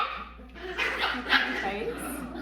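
Bernedoodle puppies bark and yip in short, overlapping bursts nearby, mixed with a few whimpers, while a person talks over them indoors.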